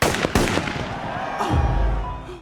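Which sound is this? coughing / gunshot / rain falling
gunshot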